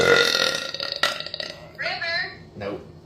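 A loud, rumbling burp bursts out close by, followed by a second shorter belch, with a voice speaking around it.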